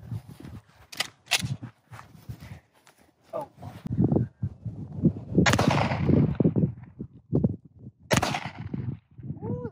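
A few guns daubed with paint firing sharp, separate shots spaced across several seconds, mixed with quieter handling noises and bits of voice.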